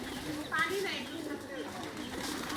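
Pet pigeons, some sick with pox, make a couple of short coos and chirps close by against a murmuring household background.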